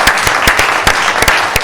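A brief burst of loud, close audience applause at a city council meeting, a dense crowd wash with several distinct individual claps standing out.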